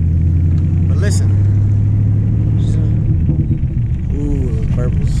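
Chevy OBS pickup truck rolling slowly in drive without throttle, a steady low engine rumble with a droning exhaust tone throughout, with someone talking over it.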